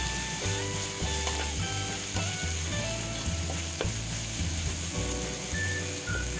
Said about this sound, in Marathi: हे चांगलं परतून घ्या